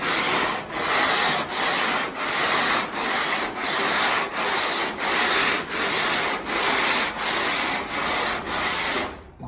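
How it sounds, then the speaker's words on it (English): Filler being hand sanded over a large area, a loud, rhythmic back-and-forth rasp of abrasive strokes, about twelve evenly paced sweeps with no voices. "all of that has been done by hand sanding"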